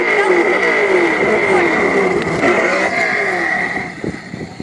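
A Traxxas RC car motor revving hard near the listener, a loud high whine with sweeping tones that holds steady, then eases off toward the end with brief voice sounds.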